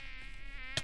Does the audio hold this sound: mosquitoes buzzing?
yes